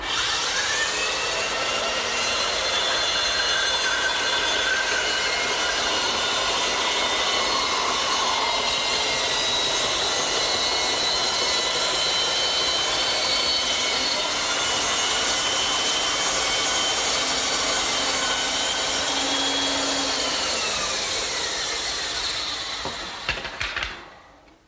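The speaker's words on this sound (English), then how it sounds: "then I'll turn the saw on, spin the blank, and I'll get a perfect circle every time" A power saw spins through a wooden blank turned on a pin, cutting a circle for a cricket table top. It makes a loud, sustained whine for over twenty seconds, then winds down and stops.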